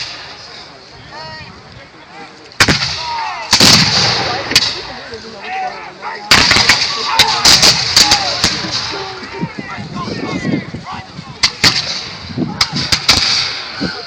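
Artillery and musket fire at a battlefield reenactment, a series of loud sharp cracks and booms in irregular bursts, some close together, echoing in open air, with a voice talking underneath.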